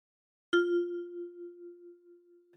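One thumb-plucked note on a ten-key kalimba, struck with the left thumb, sounds as a clear metallic tone that sustains and fades with a slight wavering shimmer, heard alone.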